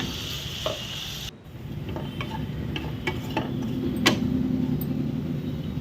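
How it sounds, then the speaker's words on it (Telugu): Salted, washed and dried potato pieces fry over low to medium heat in a kadai, giving a steady, dense sizzle with occasional stirring clinks and scrapes against the pan. "సాల్ట్ వేసి కడిగి ఆరబెట్టిన బంగాళదుంప ముక్కల్ని ఇప్పుడు ఇట్లా కళాయిలో వేసానండి"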